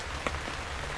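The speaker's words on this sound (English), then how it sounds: "I like sitting in a tent when it's raining out. It just sounds so neat." Steady rain patters on the fabric of a Tomount 10 inflatable tent, heard from inside as a soft, even hiss with a few sharper drop taps, quiet and close.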